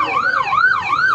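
A wailing ambulance siren at the scene of a violent riot with casualties, rising and falling in steady, loud sweeps close by with no talking.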